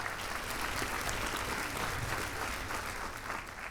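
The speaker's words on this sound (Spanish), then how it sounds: "Un aplauso para ellos" A church congregation bursts into dense, steady applause that fills the room at close range, holding evenly throughout before tapering slightly at the end.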